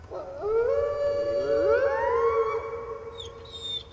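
A wolf howls in the video game Unruly Heroes, a long rising and sliding tonal wail that swells and holds before fading, with a few faint higher game tones near the end.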